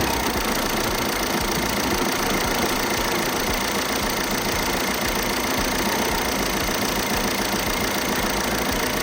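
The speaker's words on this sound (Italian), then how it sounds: "spruzzerà il prodotto all'interno del motore mentre sarà acceso e io tra una spruzzata e un'altra intervallerò il tutto con delle accelerate" A Fiat Tipo engine running steadily during an intake-cleaning spray treatment, producing a dense, constant mechanical drone with rough knocking texture close to the microphone, without clear distinct revs.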